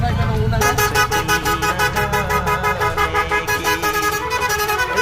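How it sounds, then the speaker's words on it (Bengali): A decorated auto rickshaw sounds its horn up close: loud, rapidly pulsing tones repeating in a steady rhythm for several seconds, with voices nearby. "তাই একটু হর্নটা বাজাতে বলো।"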